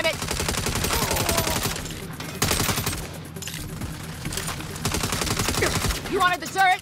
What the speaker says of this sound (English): You better shoot that turret like you shoot off your mouth! Take that turret